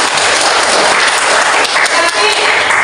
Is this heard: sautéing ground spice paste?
no